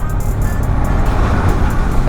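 A loud, steady rumble of a large vehicle passing close by on the road, with engine and tyre noise filling the whole stretch.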